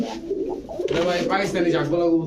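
A male pigeon coos up close in a dovecote, giving repeated soft, throaty rolling calls with continuous low bird murmuring around it.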